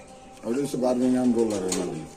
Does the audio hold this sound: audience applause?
no